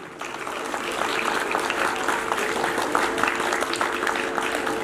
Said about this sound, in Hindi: जोरदार तालियों से उनका स्वागत करता है